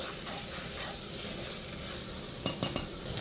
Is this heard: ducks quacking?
no